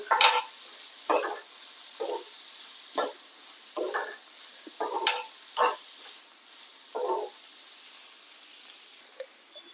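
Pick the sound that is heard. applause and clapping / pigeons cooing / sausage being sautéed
sausage being sautéed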